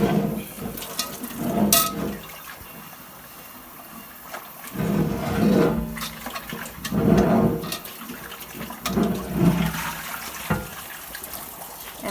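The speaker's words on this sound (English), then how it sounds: "So I'm going to rinse it." Water runs from a tap while a large pot is rinsed out, its splashing and gushing rising and falling in several loud surges with brief quieter gaps between.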